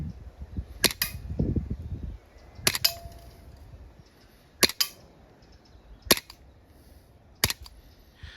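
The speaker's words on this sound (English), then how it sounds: "The dull thud you can hear is the BB hitting cardboard. The ping is the target." An Umarex Walther PPK CO2 air pistol fires five BBs at a cardboard and metal target ten metres away, each shot a sharp crack with a metallic ping, spaced a second or more apart.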